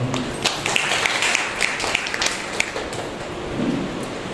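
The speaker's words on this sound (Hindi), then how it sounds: "इनके लिए जोरदार तालियां होते हैं।" A congregation at a Sunday morning church service clapping for weekly birthday names: a dense, sustained burst of many hands, rain-like and steady at moderate loudness.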